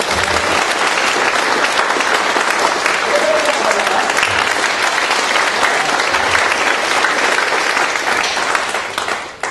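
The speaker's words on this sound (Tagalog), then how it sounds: "Isang malakas na palakpak para sa ating Panginoon." Steady, loud applause from a large church congregation, continuous throughout before tapering slightly at the very end.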